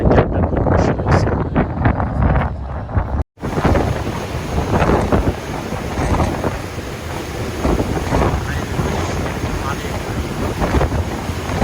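A tour boat cruises slowly through the wind on the water at Bergen, Norway, giving a steady broadband rumble with gusty wind buffeting the microphone, briefly cut off for a moment near the start before resuming.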